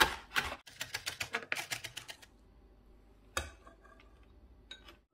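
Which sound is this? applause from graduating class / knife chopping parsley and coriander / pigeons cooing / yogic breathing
knife chopping parsley and coriander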